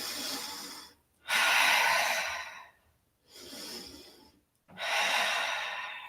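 Slow, deep breaths during a yoga session, heard close and alone as long airy inhales and exhales alternating with brief silent gaps.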